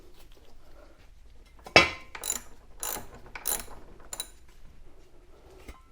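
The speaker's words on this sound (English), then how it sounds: "And once again, these were 12 millimeters. Tighten these up here." A ratchet tightens 12 millimeter bolts on a motorcycle during a tire change, with a few sharp, close clicking bursts spaced apart over a quiet background.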